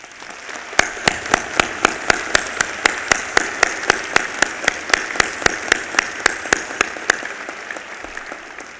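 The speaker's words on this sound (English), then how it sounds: "feel free to applause" At a university presidential inauguration, a small group claps in slow, evenly spaced unison beats, each clap sharp and distinct over a light background of scattered hands, continuing for several seconds.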